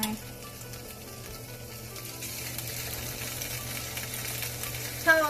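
Korean-style pork sizzles steadily in sesame oil on a hot pan, a continuous crackling hiss with a brief louder clatter near the end.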